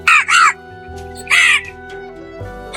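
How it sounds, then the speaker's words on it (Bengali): Three crows caw loudly for a spooky animated village ghost story, with several harsh close calls in short bursts over a low steady background hum. "অদ্ভুত ভাবে চেঁচিয়ে তিনটে কাক ধপ করে মাটিতে পড়ে গেল।"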